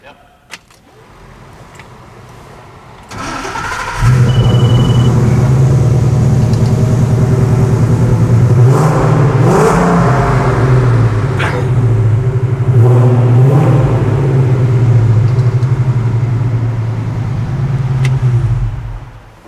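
A 1968 Ford Mustang restomod cranks briefly and then starts, its engine catching about three seconds in and settling into a loud, close, steady rumble with a couple of blips of revving before easing slightly at the end.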